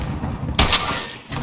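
Loud close bursts of automatic gunfire in Call of Duty Warzone, with one sharp crack standing out above a dense rumbling battle din, and no voices.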